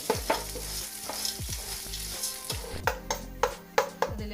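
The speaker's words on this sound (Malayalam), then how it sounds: "നമുക്കിതിലേക്ക് സേമിയ ഇട്ട് വറുത്ത് കൊടുക്കാം." Vermicelli roasting in ghee in a pan with raisins for payasam, a continuous close sizzle broken by repeated scraping strokes of a spoon stirring, growing more clattery toward the end.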